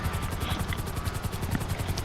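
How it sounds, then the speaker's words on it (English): Helicopter in the video game GTA Online: a continuous, loud rotor chop with a fast, even beat and a steady engine drone underneath, heard alone. "Never actually take the lift here, just use a helicopter."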